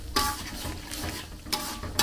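Egg being stirred and fried in a pan while making Minang-style fried chicken, with soft scraping stir strokes at intervals over a low steady sizzle.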